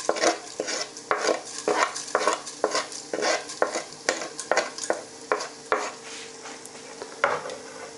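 Curry leaves, cinnamon and whole spices sizzle in hot oil for a madras-style monkfish curry, a close steady frying hiss broken by repeated sharp scrapes and clinks of a spoon stirring in the pan.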